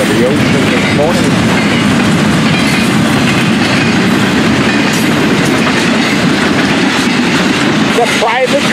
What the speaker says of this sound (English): The private cars are on the bottom of the train.